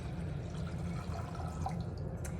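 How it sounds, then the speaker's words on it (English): Water pours into a bowl, a steady close trickle and splash that runs throughout without any talking. "got some water, I'm gonna pour it in."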